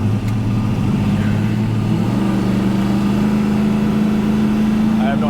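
A 1969 Plymouth Road Runner muscle car engine drones steadily while cruising, a loud, even low rumble holding constant throughout with no breaks.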